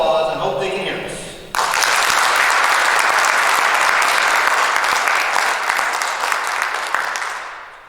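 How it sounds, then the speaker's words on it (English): A voice speaks briefly before an audience at a Distinguished Young Women scholarship showcase breaks into loud, sustained applause that carries on for several seconds and then begins to fade. "Let's give them a big round of applause"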